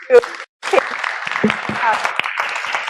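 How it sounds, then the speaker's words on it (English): Applause breaks out at the end of a farm-themed lunch-and-learn talk: scattered claps build into a moderate round, mixed with voices talking over it. "I think we should give a round of applause."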